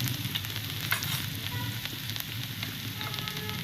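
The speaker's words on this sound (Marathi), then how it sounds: "आता त्याच्यामध्ये आपण हा लसूण टाकूया ठेचलेला, आणि लसूण थोडासा फ्राय करून घेऊया।" Crushed garlic frying in hot oil on a tawa, a steady close sizzle with bright crackles and occasional pops, continuous and unbroken, with no one talking.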